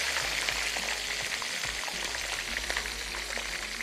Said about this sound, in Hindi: और एक एक करके सारे पीसेस को हम कर लेंगे फ्राई।